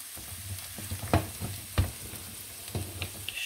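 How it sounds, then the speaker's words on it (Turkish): Meat sautéing with salt and a little oil in a home kitchen pot, a low steady sizzle broken by several sharp stirring scrapes and clanks close by, with no talk. "Şimdi bunu güzelce tuz ile kavurdum"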